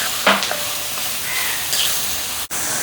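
Onions and spices for beef fry sizzle and hiss steadily in a hot pan, close and loud, with a few scraping stirs and brief bursts of spattering.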